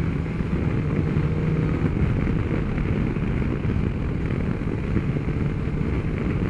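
A BMW S1000XR four-cylinder motorcycle being ridden on a road, a steady engine hum under rushing wind noise, moderate and constant throughout.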